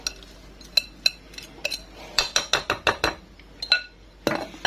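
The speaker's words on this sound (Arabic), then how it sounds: "تو نخلط عليها البيتو هذه على هيك ونخلطها" Utensil clinking and scraping against a bowl while pumpkin filling is mixed, a run of sharp metallic taps and knocks, some isolated and some in quick clusters, close and fairly clear with no talk.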